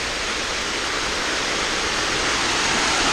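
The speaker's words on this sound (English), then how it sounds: "And that you can hear is the River Loxley." The River Loxley rushes steadily nearby, a dense, continuous wash of flowing water that stays loud and unbroken throughout with no talking.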